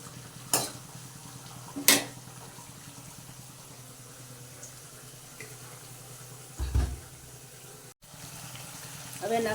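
Onion gravy cooking in a pan for dum aloo: a faint continuous sizzle with a few scattered spoon scrapes and knocks, one heavier stir thump late on.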